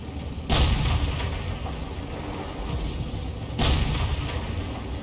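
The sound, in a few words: tank gun shot in World of Tanks video game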